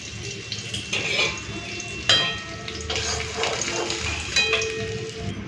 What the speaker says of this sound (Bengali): তেলের মধ্যে দিয়ে দিয়েছি পেঁয়াজ কুচি তো পেঁয়াজটাকে হালকা ভেজে নিলাম